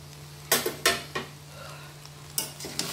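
A spoon scrapes and knocks against the pan as fried vegetables are stirred into pulao-style fried rice, giving several sharp, close clinks in uneven bursts over a faint sizzle.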